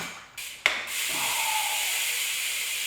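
A BMX pedal breaks loose during unscrewing with a sharp metallic crack, after a short grinding rub, followed by a continuous scraping hiss as the thread turns.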